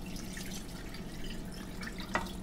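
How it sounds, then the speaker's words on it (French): Water is poured into a cooking pot to cover octopus, a soft ongoing trickle and splash with one brief sharper drip near the end, close and fairly quiet. "Là, on va ajouter l'eau."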